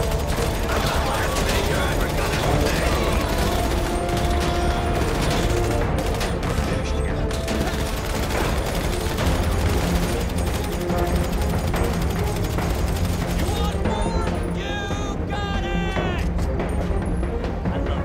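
Dense, continuous gunfire and mechanical clatter in a GTA 5 zombie survival game, loud and relentless throughout, mixed with game music and voices talking.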